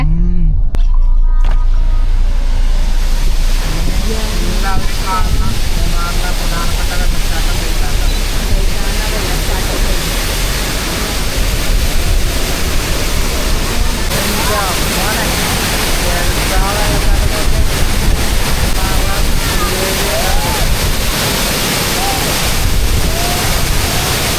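Water pours down from a mountain in a dense, continuous roar that stays loud and close for the whole stretch, with people talking faintly beneath the rush.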